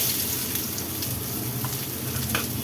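Three sliced onions fry in oil for onion chutney, with a steady loud sizzle and a few soft stirring scrapes and no voices.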